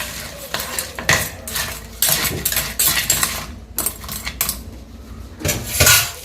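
Crab with turmeric powder and salt being stirred in a pot, with repeated loud metallic scraping and clinking of a spoon against the vessel, uneven bursts close up and alone.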